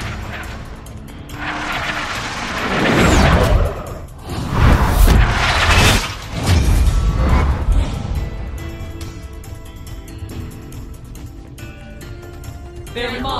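Incoming gunfire in the Tales from the Borderlands video game, loud crashing bursts and booming impacts clustered in the first half, then trailing off into quieter background clatter.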